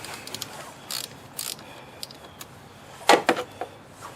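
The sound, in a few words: ratchet loosening battery terminal on 2011 Ford Edge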